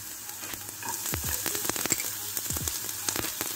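Garlic hits a hot pot and sizzles with a soft, steady frying hiss, broken by sharp crackles and spits, close up and moderately quiet with no voices.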